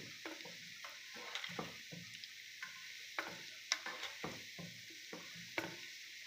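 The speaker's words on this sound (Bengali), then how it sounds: "এখন সুন্দর করে লাড়তে হবে যাতে করে একদিকে লাল না হয়ে যায়।" Kalo jam sweets frying in hot oil while being stirred, a steady soft sizzle broken by repeated scraping stir strokes close to the listener, with no talking.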